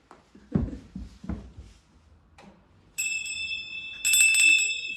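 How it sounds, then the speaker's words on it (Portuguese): After some thumps and rustling, a bright bell-like chime rings out in sustained tones, then a second, louder ringing layer joins near the end. "O sininho, né? Tocando."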